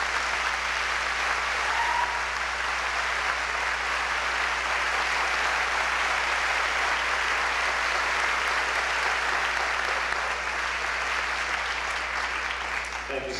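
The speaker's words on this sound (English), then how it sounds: "Please join me in a round of applause for these students" Sustained applause from a commencement audience honoring scholarship students at a 1992 high school graduation, dense and even clapping that continues loudly without pause, tapering slightly at the very end.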